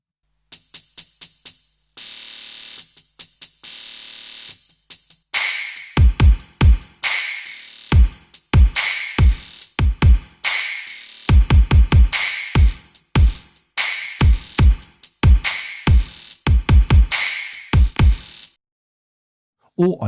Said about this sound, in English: if I have the trap hi-hat sound on my open hi-hat